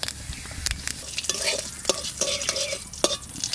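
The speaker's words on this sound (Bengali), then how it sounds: "এবার ফোড়ন দেবো, তার জন্য তেল দিচ্ছি, অল্প তেল দিলাম, কালো জিরে আর দেব" Black and white cumin seeds sizzle in a small amount of hot oil for tempering, a steady crackling fry with sharp pops and utensil clinks scattered throughout, close and fairly loud with no talking.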